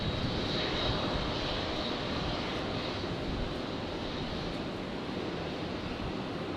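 A Saab 340 turboprop departs from runway 01 right at Brisbane Airport, a steady broad engine roar at moderate distance holding evenly and easing slightly toward the end.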